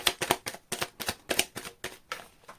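Tarot cards are shuffled by hand in a quick run of about a dozen crisp riffling bursts, close and fairly loud, each a short papery flutter.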